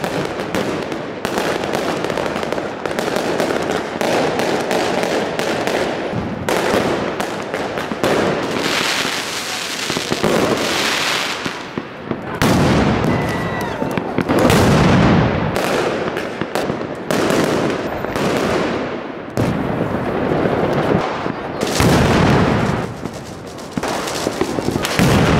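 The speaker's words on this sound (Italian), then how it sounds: "Hai visto l'esplosione?" New Year's fireworks and firecrackers explode nonstop in the Fuorigrotta district of Naples, a loud, dense barrage of sharp bangs and crackling bursts lasting about twenty-five seconds, with occasional heavier booms standing out.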